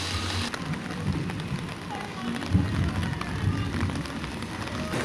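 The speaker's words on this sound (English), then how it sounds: "And it's now raining." Heavy rain pours steadily over a road construction site on Hagley Park Road, a dense, continuous wash of hiss and patter close by, with a few stronger splashes near the middle.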